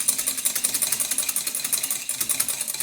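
A single egg white is whisked by hand in a bowl, a fast, even rhythmic ticking of whisk wires against the sides, close and steady with no talk.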